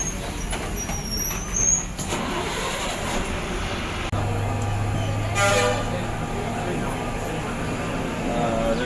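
Brand-new MTC electric low-floor bus on route 46G during a ride, a continuous cabin hum and road rumble with a couple of faint horn toots and muffled voices in the background.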